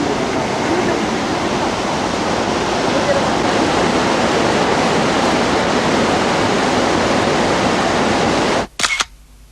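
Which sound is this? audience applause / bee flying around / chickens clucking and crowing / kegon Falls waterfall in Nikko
kegon Falls waterfall in Nikko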